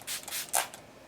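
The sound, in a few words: primer water spray being sprayed on face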